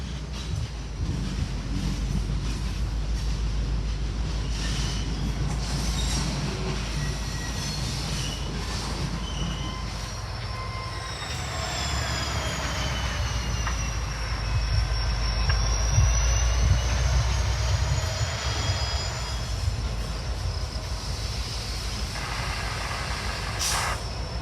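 A train on the Amtrak Lake Shore route rolls along the tracks with a steady low rumble, while high metallic wheel squeals rise and sweep in the middle, loud and close throughout.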